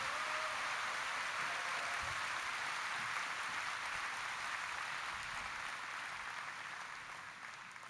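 Audience applause at a CBMC Korea convention fills the hall as a steady, distant wash of many hands, holding evenly before tapering off at the end.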